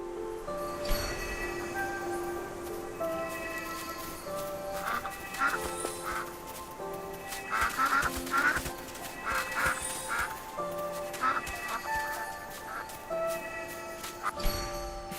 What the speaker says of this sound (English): But how did we end up herding ducks?